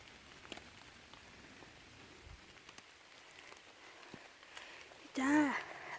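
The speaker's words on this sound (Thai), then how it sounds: "ฝนตกใส่กล้องเปียก" Light rain falls during outdoor mushroom picking, soft scattered drops tapping on the wet camera against a quiet background, with a short burst of voice near the end.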